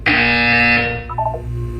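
Loud electronic buzzer in the video game Portal 2, a harsh, sustained tone sounding for under a second, then fading into a softer warbling tail.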